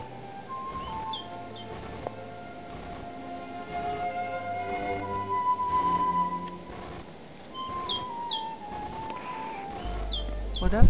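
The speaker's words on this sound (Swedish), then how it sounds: "Vi lyssnar på talgoxen som sjunger." A great tit sings outdoors on a sunny, freezing winter day at a bog, its repeated bright whistled phrases standing out over other faint chirping birds and a low background hum.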